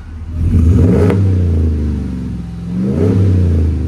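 A car engine fitted with a Flowmaster Signature Series exhaust revs up loudly and close, holds a deep droning tone, dips, then climbs again in a second rev.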